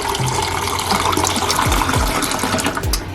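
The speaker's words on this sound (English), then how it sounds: "I'm just going to pour in some warm water" Warm water pours steadily into a plastic yogurt container at home, a continuous close splashing and trickling fill with no talk.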